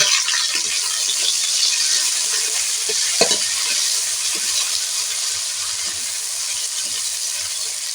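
Onion, green chili and chopped tomato fry in a pan with a steady, loud sizzle and hiss throughout, broken by occasional stirring scrapes and light clinks.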